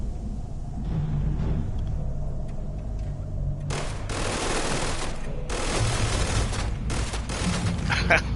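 Gunfire in Starfield crackles in several loud, rapid bursts over a low rumbling background, starting a few seconds in and repeating with short pauses, with a voice partly underneath.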